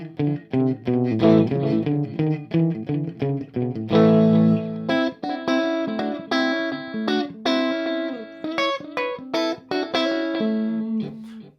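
An electric guitar runs through an EHX Epitome pedal in shimmer mode with a single-repeat echo, playing a steady sequence of clear picked notes and chords, each note trailed by its short echo, with no talking.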